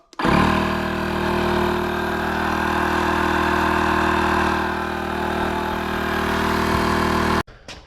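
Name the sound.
Vogma electric SUP pump inflating a paddle board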